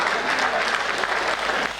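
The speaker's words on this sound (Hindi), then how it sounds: "जरा जोरदार तालियों से मुझे बताएं कि आप सुनना चाहते हैं।" Audience applause at a Hindi comic poetry gathering (hasya kavi sammelan), a dense, steady burst of many hands clapping together that stays loud for the whole stretch.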